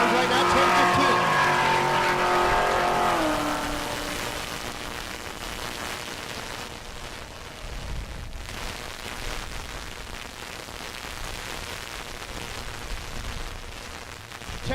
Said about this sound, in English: Koenig, your leader in naturally aspirated small block, the first gen Camaro.